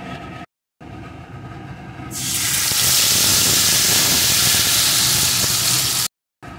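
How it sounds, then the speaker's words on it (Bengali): Whole spices crackling in hot oil for a vegetarian shahi soya dish, a loud, steady hiss that swells in suddenly and holds, framed by brief cut-outs, with no talking. "ফোড়নগুলো সুন্দর করে ভেজে নেব"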